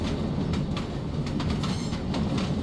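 A train runs in the video game Deep Sleep: Labyrinth of the Forsaken, a steady, loud rumble of rolling wheels with faint rhythmic clacks throughout and no voices.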